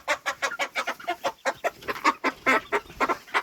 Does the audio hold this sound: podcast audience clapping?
no